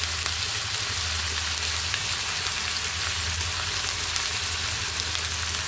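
Ginger garlic paste sizzles in a hot pan for Andhra-style Gongura chicken curry, a steady close crackle and hiss with no talking.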